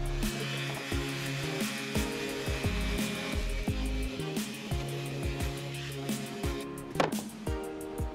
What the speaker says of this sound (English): I'm going to give these a quick sand to get rid of the laser smudges